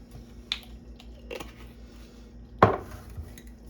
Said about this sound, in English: we're gonna go ahead and carefully stir in our vanilla, our cream, and our salt